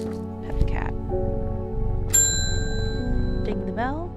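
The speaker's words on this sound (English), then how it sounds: "Ding the bell." A desk bell in the video game Strange Horticulture gives a bright ding with a ringing tail, heard alongside soft game music and other light effects.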